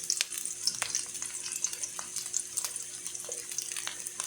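Garlic sautéing in a pan for tinolang tahong, a steady crackling sizzle with scattered sharp pops and light stirring scrapes, close and continuous without any talk.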